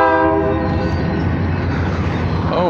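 A train horn blares loud and sustained with stacked harmonic tones over the rumble of a passing train, heard from a waiting car at a crossing.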